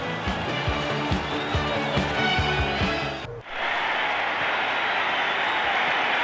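A delirious stadium crowd roars and cheers at a 1979 Giants versus Cowboys football game at Giants Stadium, a loud, dense wash of noise that dips briefly midway, with commentary faintly underneath.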